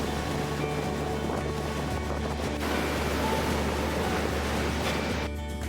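Constant loud roar of surf and wind in stormy weather off Turkey, waves breaking in a steady heavy wash with no voices.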